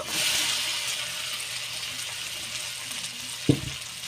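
Thick-cut potato pieces fry in a pan with oil for an egg and potato dish, making a continuous hissing sizzle that fades slightly, with one sharp stirring knock near the end.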